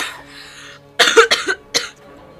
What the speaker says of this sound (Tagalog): May ubo ka.